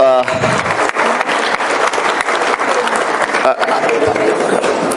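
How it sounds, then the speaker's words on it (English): Audience applause at a startup event, a sustained, fairly loud round of clapping lasting several seconds with brief voices at the start. "Let's have a round of applause for Piyush sir, please"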